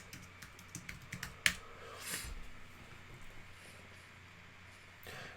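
A password is tapped out on a computer keyboard, a handful of quiet, irregular key clicks close by in a hushed room, with one sharper keystroke.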